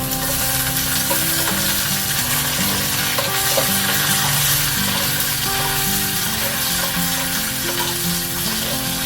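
Cashews and raisins fry in ghee with a steady, loud sizzle that runs throughout, joined by light stirring, while faint tonal background music plays underneath.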